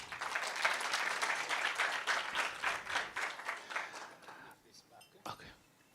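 An audience at a health hackathon winner announcement applauds in a steady wash of clapping that holds for several seconds, then thins out and fades to a few last claps, with some voices mixed in.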